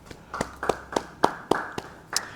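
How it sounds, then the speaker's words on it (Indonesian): Scattered hand claps at a church Bible study session, a handful of separate sharp claps spaced roughly a quarter second apart, moderately close and fairly quiet, without voices. "Beri tepuk tangan bagi dia."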